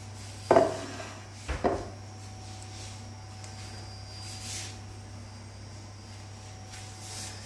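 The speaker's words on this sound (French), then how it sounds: "Je vais mettre ça dans mon plat à four." A marinated poussin being set into an oven dish gives two brief close clunks of dish and cutlery early on, then a quiet kitchen with a steady low hum.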